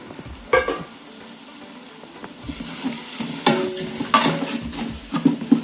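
Ground whole spices (cinnamon, cloves, cardamom, star anise) and garlic sizzle in a large pot of chicken biryani gravy for forty people, a steady close fry broken by a few louder scraping stirs.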